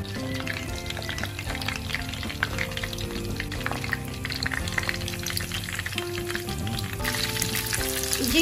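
Peri peri cheese bites deep-fry in hot oil with a busy, loud bubbling crackle that holds steady throughout and swells slightly near the end.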